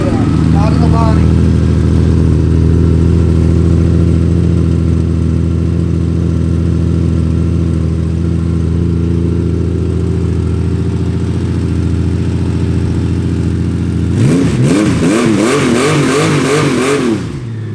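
A 2001 Honda Valkyrie motorcycle engine runs loud and close at a steady throaty idle, then revs sharply several times near the end, rising and falling in quick bursts.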